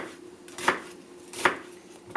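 Garlic cloves, half an onion and a little parsley being chopped with a knife on a board, three sharp, close taps spaced about three-quarters of a second apart over a low background hum.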